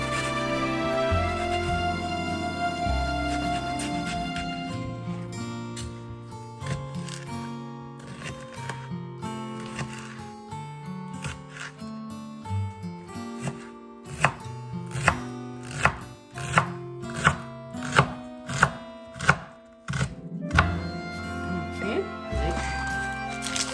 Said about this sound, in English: So basically I'm going to cut it the same way I would cut an onion.